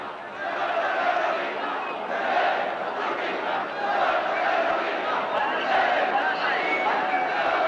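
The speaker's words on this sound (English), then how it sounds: "the chanting, singing crowds surged through city streets, shouting party slogans and insisting upon self-rule" Vast crowds demonstrating in city streets for Andalusian autonomy, chanting and shouting slogans, a dense continuous roar of many voices with no single speaker standing out.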